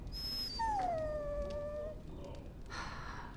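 A dog whines in a long, falling, high-pitched cry in Dragon Age: Origins, close and clear over a steady game ambience.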